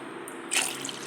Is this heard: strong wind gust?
no